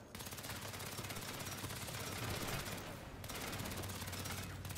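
Unbroken automatic gunfire in the open-world game Saints Row, a fast, steady stream of loud, close shots filling nearly five seconds with only a brief dip in the middle.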